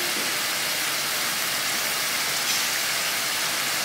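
Tomatoes hit a hot pan of browning keema with a loud, steady sizzle and steamy hiss, a dense close frying rush that holds without letup, with no talking.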